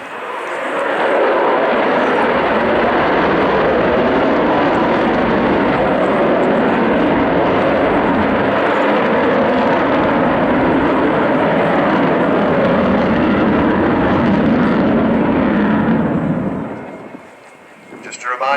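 An Avro Vulcan jet bomber passes at an air display, a loud, steady broadband roar holding for about sixteen seconds before fading away, with faint background commentary.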